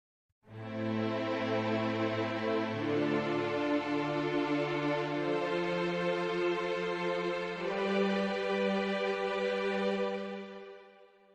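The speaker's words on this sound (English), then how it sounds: "a sustained string patch from CSS here, and I've just played a little 4-chord progression" Sustained orchestral string ensemble from a CSS sample library plays a slow four-chord progression, each chord held long with smooth changes, full and steady at even loudness throughout with no talking.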